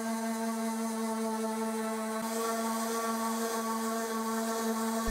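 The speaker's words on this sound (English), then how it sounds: "Then I sanded with my orbital sander to 120 grit." A steady, high-pitched electric whir drones on without a break as an orbital sander with 120-grit paper runs continuously on salvaged oak at close range.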